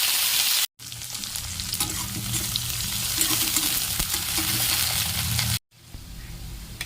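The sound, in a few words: onion frying in oil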